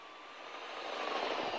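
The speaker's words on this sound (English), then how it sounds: "Police helicopter." A police helicopter in The Walking Dead game passes overhead with a steady, rising broadband engine and rotor roar that swells slightly louder over its short span, with no voices.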